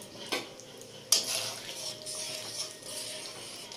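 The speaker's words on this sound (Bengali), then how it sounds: "এবার এই যে আমুল দুধটা যেটা একটু ঘন করে আমি গুলে রেখেছিলাম সেটা আমি এর মধ্যে দিচ্ছি।" Thickened Amul milk is poured into a pan of prawn malai curry. Two sharp utensil clinks are followed by a soft, continuing hiss of liquid meeting the hot pan.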